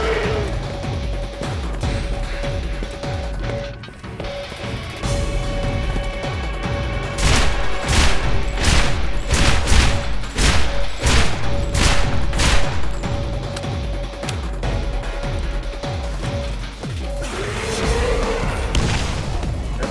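Bursts of video game gunfire from a 5-round burst weapon, several rapid close volleys of sharp cracks clustered in the middle, over a steady background hum and ambient game noise, with no talking.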